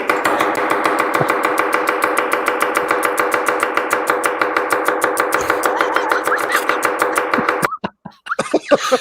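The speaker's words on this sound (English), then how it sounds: "the intensity of that chopping" A knife chops rapidly and steadily through garlic on a cutting board, dozens of sharp evenly spaced strikes over a humming background, ending in a few slower, scattered cuts.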